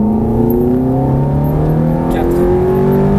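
A Ferrari F430 accelerates hard on the Croix-en-Ternois race track, its engine note climbing steadily in pitch as it pulls through the gears, loud and close throughout.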